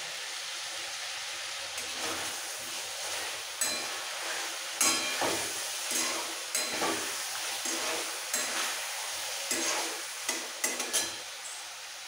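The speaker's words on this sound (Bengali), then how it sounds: "চিকেন মশলার সাথে ভাজতে ভাজতে তা কষাতে দিয়ে দিচ্ছি" Chicken fries in spice masala in a pan, a steady close sizzle with repeated stirring scrapes and light utensil knocks throughout.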